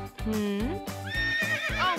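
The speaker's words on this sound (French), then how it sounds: "La policière monte un cheval." A toy police horse played with during a doll scene, with a loud, close horse whinny rising and wavering over about two seconds, ending in softer snorting neighs.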